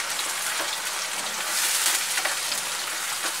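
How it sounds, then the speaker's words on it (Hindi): Onions fry in 200 ml of hot cooking oil in a kadai, a steady dense sizzle and crackle with a slight swell in the middle, close and alone without talk. "200 ml कुकिंग ऑयल हमने कढ़ाई में गर्म कर लिया है और अब इसमें हम सबसे पहले अनियन ऐड करेंगे और अनियन को लाइट गोल्डन होने तक फ्राई कर लेंगे"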